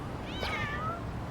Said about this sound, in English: You can interact with those cats.